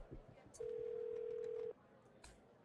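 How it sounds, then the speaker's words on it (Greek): A telephone rings with a single steady electronic tone lasting about a second, loud and close over a faint, murmuring background. "σε παίρνει τηλέφωνο, σήκωσε το"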